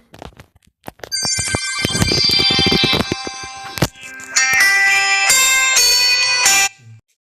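An in-game phone call rings in the video game FNAF Ultimate Custom Night, with loud, bright electronic tones in bursts broken by short gaps before cutting off into silence.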